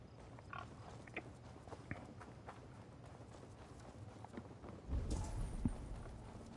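Pigs grunting in Assassin's Creed Valhalla, set in England, with low snorts scattered across a bed of game ambience and hoof-like footfalls, and a louder burst of activity near the end.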